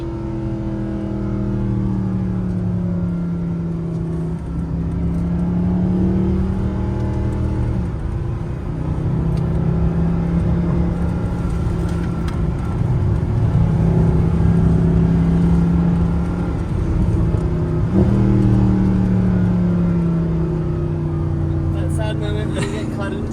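Engine drone of a Mercedes SLS AMG GT Final Edition rising and falling as it accelerates through gears, a steady interior rumble with occasional voices over it.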